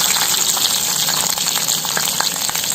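Dried red chillies, curry leaves and crushed garlic frying in hot oil for a shallot kara kuzhambu, a loud, dense, continuous sizzle heard close up with no voices.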